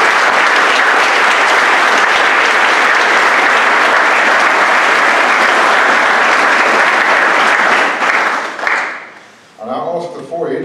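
Loud, sustained applause from a large crowd at a college valedictory ceremony fills the hall for about eight seconds before fading, followed by a voice speaking.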